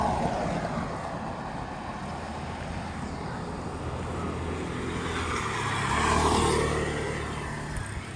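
Cars on a nearby road rumble past in a continuous broadband wash, one vehicle swelling slightly louder and closer toward the end, with no voices.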